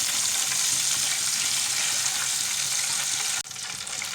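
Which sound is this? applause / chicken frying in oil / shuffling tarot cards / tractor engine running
chicken frying in oil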